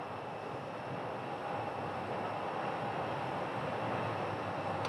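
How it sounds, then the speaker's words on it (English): American Airlines Boeing 737 jet departing Sky Harbor airport, a steady broadband roar of engines at a distance, constant and unbroken with no voices. "We have an American 737 here."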